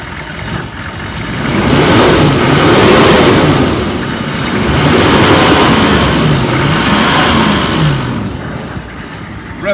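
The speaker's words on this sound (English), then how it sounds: "Let me rev it up so you can hear it." A 2002 Chevy 3500 stake truck with a 6.5L diesel engine revs up twice from idle, rising and falling in loud, close swells before settling back down.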